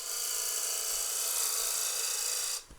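A roughing gouge cuts a wood spindle on a lathe, giving a steady, loud, hissing scrape that runs unbroken for most of the moment before cutting off sharply near the end.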